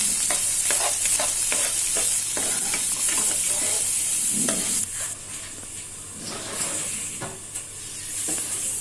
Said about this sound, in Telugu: కొంచెం తాలింపు వేగిన తర్వాత ముందర కట్ చేసి పెట్టుకున్న ఒక ఆనియన్ వేసుకోవాలి